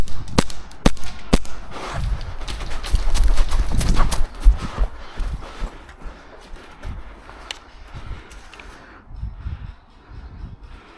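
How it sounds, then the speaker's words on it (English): Footsteps in a first-person shooter video game surround the player as sharp, irregular clacks and thuds, dense and loud early then thinning out, with faint game ambience between steps. "Surrounded, I listen to the footsteps around me."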